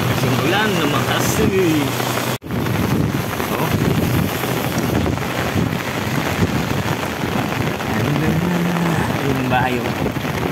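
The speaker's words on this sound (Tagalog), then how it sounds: "Kasing ulan lumakas." Heavy rain pours steadily on a house, a dense continuous wash with gusty wind buffeting the microphone, loud and close throughout, with a brief dropout partway through.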